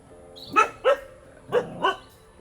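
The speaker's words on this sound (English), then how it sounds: "I say uh-oh because there's about to be a lot of dog noise." Dogs barking indoors during a yoga stretch session, four distinct barks in two pairs, moderately loud and close, with no talk over them.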